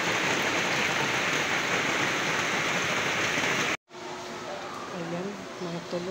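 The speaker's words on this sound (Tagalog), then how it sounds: "Lakas ang ulan, malakas." Loud, dense rain pouring steadily for several seconds, then a cut to softer rain with a voice speaking over it.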